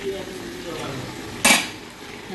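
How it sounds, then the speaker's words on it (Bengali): A wok on a home stove gives one sharp metallic rattle partway through, set against a low frying sizzle and general kitchen noise, with no one speaking. "আজকে কড়াই খুব নাচানাচি করছে"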